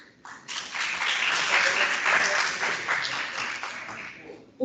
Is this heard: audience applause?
yes